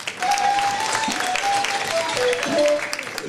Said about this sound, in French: Et il faut l'applaudir.